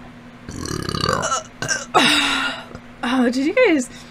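Several loud, croaky burps in quick succession, one deep and drawn out, with a voice chiming in between them.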